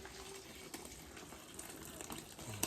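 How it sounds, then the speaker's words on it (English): Cooked apple cores and peelings are poured into a jelly bag, giving a soft, continuous wet gush and slosh, quiet and close, with no voices. "we're just going to pour the apple into the bag"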